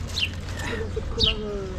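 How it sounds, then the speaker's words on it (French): Pigeons, ducks and sparrows calling outdoors, with a couple of brief chirps and soft cooing notes, partly under quiet voices. "on a des canards, des moineaux et les pigeons arrivent"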